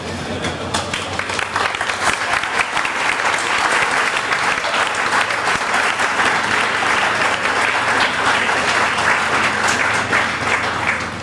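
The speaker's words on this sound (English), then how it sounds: "please stand up and we'll give you a round of applause" Sustained, loud audience applause at a county fair show, dense steady clapping throughout with no break.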